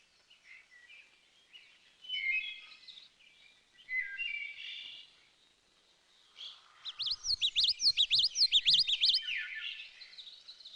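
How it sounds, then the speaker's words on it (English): A yellowthroat warbler sings in the Algonquin Park woods, thin high phrases at first, then a louder run of rapid repeated notes near the end, with no voices present. "This is the yellowthroat."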